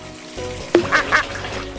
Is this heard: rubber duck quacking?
yes